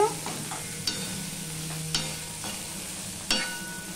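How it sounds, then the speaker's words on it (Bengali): Potatoes and onions sizzle quietly in a pan while a utensil stirs and scrapes them several times at irregular intervals. "আলু পেঁয়াজটা প্রায় ভাজা হয়ে গেছে"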